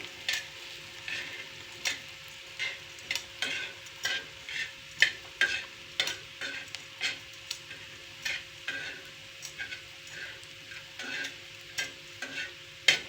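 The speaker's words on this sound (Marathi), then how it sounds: "असं परतून घ्यायचं आहे. अशी सगळी परतून घ्यायची आहे छानपैकी." Potatoes stir-fried in a pan, heard as a quiet, regular run of spatula scrapes and stirring strokes roughly every half second over a faint frying sizzle, close and without any voices.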